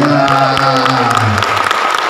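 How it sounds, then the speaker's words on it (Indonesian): An audience at a business event applauds a guest, a loud, steady patter of clapping with some crowd noise, while voices and a tonal hum carry over it early on. "berikan tepuk tangan yang paling meriah untuk Mr."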